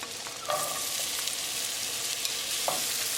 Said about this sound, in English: Cook onion until they are nicely translucent